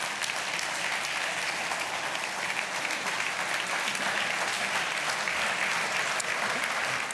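An audience at a Slovenian independence anniversary ceremony applauds an octet of singers with loud, dense, continuous clapping that fills the whole room.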